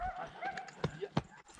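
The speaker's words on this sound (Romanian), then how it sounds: "Frumos un cal." A stallion from Vicovu de Sus, a young horse, gives a few hoof clip-clops, two sharper close knocks standing out, amid outdoor background and faint voices.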